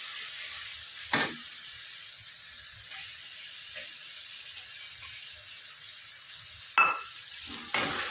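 Ginger paste fries in oil for a chicken curry, giving a steady soft sizzle with a few scraping stirs and brief clinks of a spoon against the pan, and no one talking.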